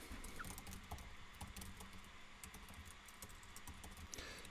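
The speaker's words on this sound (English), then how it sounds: "And I'm going to start typing." Faint, steady typing on a computer keyboard, a quiet rapid patter of key clicks continuing throughout against a low background hiss.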